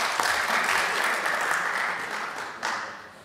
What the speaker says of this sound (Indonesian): Kasih tepuk tangan dulu untuk institusi kita.